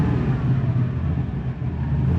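Land Rover Defender 110 engine revving, a deep, steady rumble heard from close inside the vehicle, with no talk.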